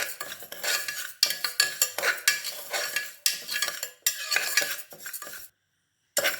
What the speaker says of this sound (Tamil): எண்ணெய் ஊற்றாமல் வெறும் வெறும் சட்டியில் நல்லா செவக்க வறுக்கணும்